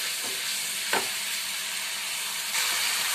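Masala paste frying in a pan with a little water for a fish curry, a steady close sizzle and hiss with a couple of brief stirring scrapes and a swell in the sizzle near the end.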